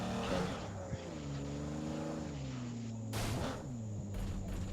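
A sports car in a video game drives up, its engine note rising and shifting in pitch with a steady revving drone, while a person talks over it and sharp bursts break in near the end.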